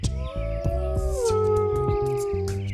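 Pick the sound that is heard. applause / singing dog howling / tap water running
singing dog howling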